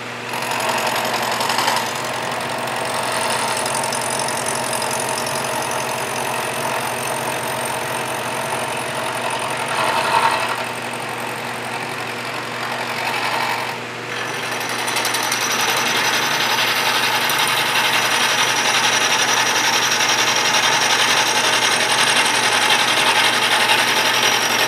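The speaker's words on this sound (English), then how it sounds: "The first step in finishing these castings was to face mill them to spec." A milling machine face-mills steel cross tie castings for a Union Pacific 844 steam locomotive, giving a steady, loud whirring and grinding drone that runs the whole time with a couple of brief dips, and no talk.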